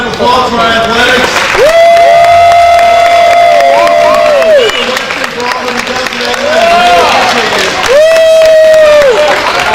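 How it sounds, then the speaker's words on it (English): A crowd at a high school banquet on an east campus cheers and applauds loudly for the athletics teams, with whoops and shouts over the clapping, and sustained high tones ringing above the noise throughout. "Give one more round of applause for our athletics."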